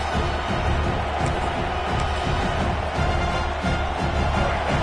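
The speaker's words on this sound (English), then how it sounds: "this crowd is fired up. Listen to this noise here" Broadband roar of a fired-up football stadium crowd, a steady dense wash of cheering voices that holds loud and unbroken from start to finish with no single voice standing out.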